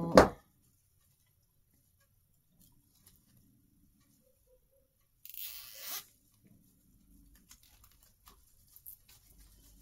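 A plastic cable tie is pulled tight on an artificial Christmas door swag, giving one short zipping rasp in the middle, with a louder knock at the start and a few faint clicks near the end.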